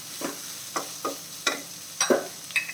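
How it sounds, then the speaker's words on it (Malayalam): Onion and green chilli sautéing in a pan for pepper chicken, with a soft steady sizzle broken by six or seven distinct scraping stirs of a spoon, close and clear with no talk. "അതും കൂടെ ചേർത്ത് കൊടുക്കാം സവാള നല്ല രീതിയിലൊന്ന് വഴണ്ടിടണം"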